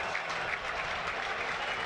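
Burnley fans in a Premier League stadium applaud steadily on the final day of the season, a dense, even wash of clapping that fills the whole moment.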